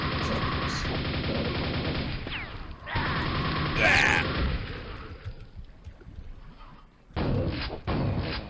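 Rapid gunfire in the Quake 1 video game, dense mechanical bursts of shots in long loud stretches broken by brief pauses, with a few short clipped volleys near the end.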